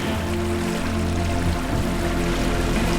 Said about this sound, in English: record the sounds of boats, creeks, sails, and waves